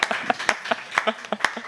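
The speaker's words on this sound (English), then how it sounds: "I'd just like to give a big round of applause to Bali." A few scattered claps at a speaking event, sparse and uneven, with separate sharp hits rather than a full ovation, close and moderately loud.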